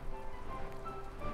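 Steady rain patters across a surface in a video game, a dense even hiss of drops that fills the whole moment, with faint tonal game music threading beneath it.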